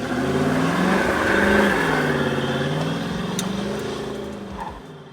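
A 1980 Pontiac Firebird with bronze paint, its engine revving and holding a loud, close rumble with rising and falling pitch before it drops off near the end.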